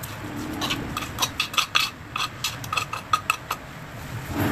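Ground lemongrass, shallots and garlic, pounded fine, are scraped and tipped into a bowl, giving a run of light, irregular utensil clinks and taps against the dish, close and fairly quiet with no talking.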